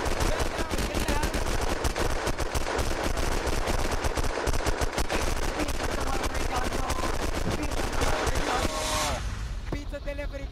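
Sustained automatic gunfire in the zombie survival game Unturned, rapid loud bursts of shots rattling continuously for about nine seconds before cutting off abruptly, with brief clipped sounds after.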